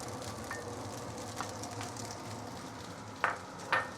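Lap cheong and beans frying for fried rice, a low steady sizzle running throughout, broken by a few brief sharper bursts of spatter and stirring toward the end.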